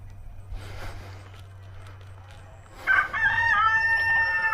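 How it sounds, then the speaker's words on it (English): Roosters crow outdoors, one loud, drawn-out cock-a-doodle-doo rising clearly near the end above faint rustling and a steady low hum. "I got a cat stalking the roosters"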